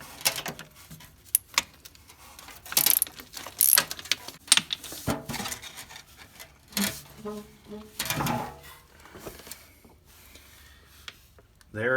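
A socket ratchet with a 23 millimeter socket loosens the drain plug on a Honda ATC 185, making irregular bursts of clicking and metallic clatter at close range. A voice speaks intermittently.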